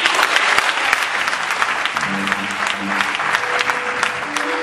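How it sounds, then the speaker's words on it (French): A church congregation at a prophetess's service breaks into loud, sustained applause, with dense clapping continuing steadily from start to finish and a few voices faintly audible underneath. "Acclame cette parole."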